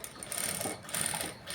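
A sewing machine runs briefly on a blouse, a short close whirring burst that rises and falls over about a second and a half.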